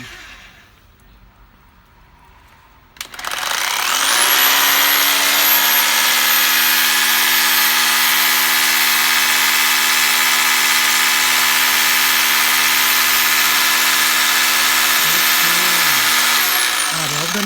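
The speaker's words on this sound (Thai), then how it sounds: "เปลี่ยนเป็นหมดเจาะปูน" Dewalt D25122K 800 W rotary hammer switched to concrete drilling mode starts after a few seconds of quiet, then runs loud and steady with a high whine and a buzzing hammer rattle, slowing slightly near the end.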